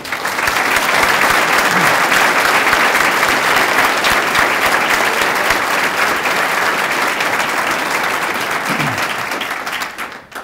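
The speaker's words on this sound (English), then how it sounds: "will you all please join me one more time in a well-deserved applause for our leader, colleague, and friend" Sustained audience applause for a chancellor at a Missouri S&T announcement, a dense steady roar of many hands clapping at full strength for about ten seconds before tapering off at the end.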